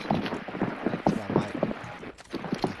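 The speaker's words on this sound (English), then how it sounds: "God, I can hear those footsteps running up the stairs." Rapid footsteps pounding up a staircase in the shooter game Call of Duty: Warzone, a quick uneven run of thuds close by against a low background.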